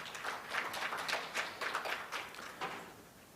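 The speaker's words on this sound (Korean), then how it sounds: "진승호 단장님께 다시 한번 박수 부탁드리겠습니다" Audience applauding at a ceremony launching a balanced-development globalization task force, a faint, moderate round of clapping with uneven individual claps, steady throughout.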